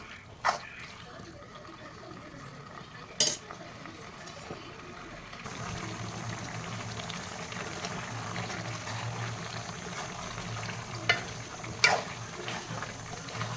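Steady sizzling and bubbling of chicken sautéing in masala in a pan, with a few sharp clinks of a utensil against the pan.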